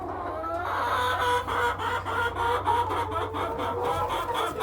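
Several young laying hens clucking and murmuring close by in a coop, a busy, continuous chatter of short repeated calls with no talking.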